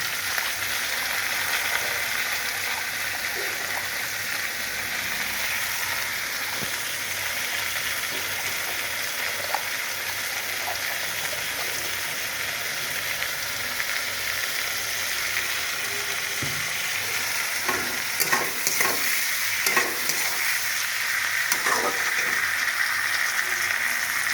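Chili chicken sizzles steadily in a pan after a spoon of vinegar goes in, a constant moderate hiss with scattered clicks and scraping utensil knocks growing busier toward the end.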